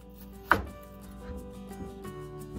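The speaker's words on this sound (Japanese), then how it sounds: "はい、それでは玉ねぎを薄切りにしていきます" A kitchen knife cuts an onion into thin slices on a board, with one sharp chop followed by faint, softer cuts over a steady background hum.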